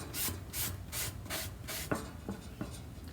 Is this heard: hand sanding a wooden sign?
yes